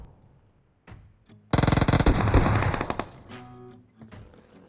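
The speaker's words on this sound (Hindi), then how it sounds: "मैं 1-2 गोली चलाता हूँ" Rapid automatic gunfire in the mobile battle-royale game PUBG Mobile, a loud dense burst of shots lasting about two seconds, preceded by a couple of faint single reports and trailing off into quieter game ambience.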